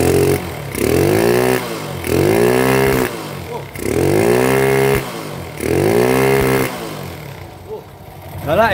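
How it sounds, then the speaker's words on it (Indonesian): A motorcycle engine with a hissing carburetor revs hard in four loud, rising-and-falling bursts close by, each ending in a brief drop, then settles to a lower idle with faint background noise. "lihat nih, dengerin suaranya, desis karbunya sangar"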